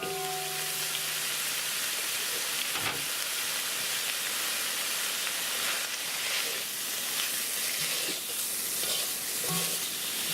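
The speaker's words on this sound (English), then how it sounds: "We're going to put that in our wok, along with the carrot and the onion." Cubed ham with carrot and onion frying in a hot wok gives a steady broad sizzle and hiss, with a few light clinks of stirring, heard alone without talk.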